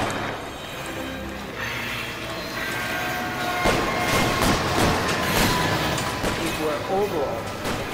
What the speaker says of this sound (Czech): Prostě metro, ty.